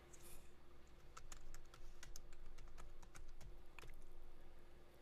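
Quiet clicks of typing on a computer keyboard in a Python coding setup, a light irregular run of keystrokes over a low steady hum, no talking.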